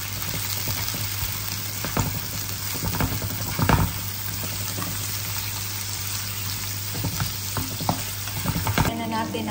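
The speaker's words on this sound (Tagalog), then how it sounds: "Sabay-sabay na lang natin ang bawang at saka sibuyas. At haluin natin." Garlic and onion sizzle steadily in a hot pan while a utensil stirs, scraping in scattered clicks and taps over the constant crackle of frying.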